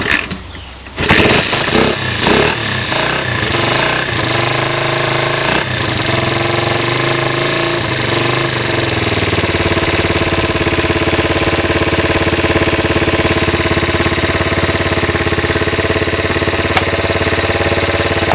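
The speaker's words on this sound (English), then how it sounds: "she sounds great" Honda XR80 motorcycle with a transplanted used engine, running steadily after a few uneven opening revs, close and loud with a constant mid-pitched drone and slight valve tick, no talk.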